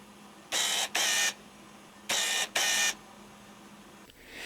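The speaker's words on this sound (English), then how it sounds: "its autofocus performance is fairly loud" Two pairs of short, whirring buzzes, each burst under a second, with a quiet pause between the pairs; the autofocus motor of a Nikkor DX 18-200mm VR II lens driving back and forth, up close.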